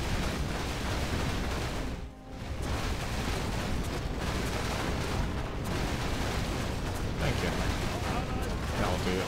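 Repeated cannon tower fire in the Arkguil TD tower defense game forms a loud, dense wall of booms and bursts, briefly dipping in the middle before resuming.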